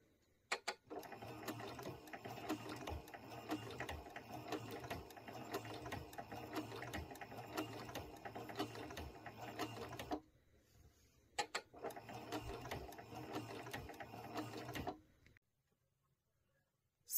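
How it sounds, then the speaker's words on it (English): Sewing machine running steadily as binding is stitched on a quilted pouch with a stitch-in-the-ditch foot, a dense mechanical whir with rapid needle ticking, pausing briefly midway before resuming, then stopping. "So we're all finished sewing this binding on."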